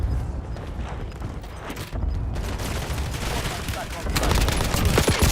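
Rapid bursts of gunfire and explosions from the video game Call of Duty Warzone rattle on continuously, loud and dense, with a voice partly heard underneath.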